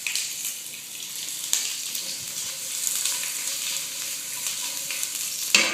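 Eggplant slices fry in a hot pan with a steady, moderately quiet sizzle and crackle and a few sharper pops, and no one speaks.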